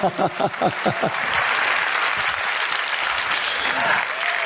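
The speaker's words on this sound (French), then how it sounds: "Applaudissez-le très fort, s'il vous plaît." Audience applause at a France-Africa summit gathering, starting under a voice and then swelling into sustained loud clapping from a crowd.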